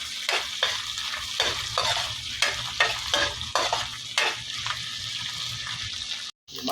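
Pork barbecue being stirred and fried in a pan, with a steady sizzle broken by repeated scraping stirs at an uneven rhythm, close and fairly loud, cutting out briefly near the end.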